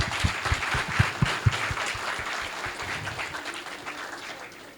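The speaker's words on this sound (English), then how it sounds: "Let's give them a big round of applause." Applause from an audience at a preschool event, a crowd clapping steadily with a few sharper individual claps, moderately loud and fading slightly toward the end.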